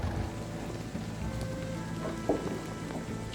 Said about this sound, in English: Pouring rain and he's sitting out there with no rain jacket on.